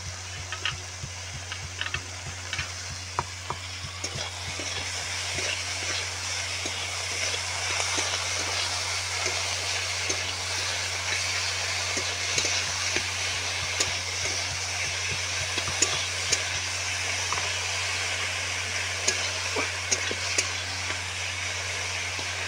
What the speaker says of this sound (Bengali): আমি মাশরুমগুলোকে ভাজতে বসেছি।